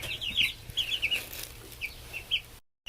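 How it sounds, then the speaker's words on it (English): Baby chickens peep in high, repeated bursts inside a chicken coop holding about fifty chicks, close and moderately loud, with short clusters of chirps scattered across the clip and no talking. "This chicken coop has 50 baby chickens inside."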